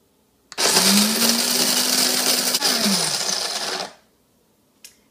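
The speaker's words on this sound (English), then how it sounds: "I'm just gonna press start and it will automatically grind the beans until it reaches the 8 cup level that I need" A Cuisinart burr coffee mill starts abruptly and grinds coffee beans with a loud, harsh whir for about three seconds. Its hum dips slightly in pitch before it cuts off, followed by a single brief click.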